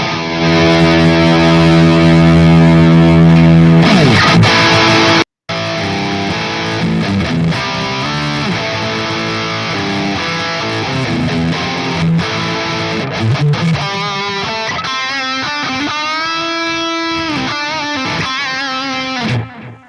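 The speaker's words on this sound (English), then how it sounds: "Let me give you a little bit of the bridge with some distortion" A distorted electric guitar on the bridge pickup plays sustained chords, then a short break, followed by more gritty riffs and bending single notes, loud and alone.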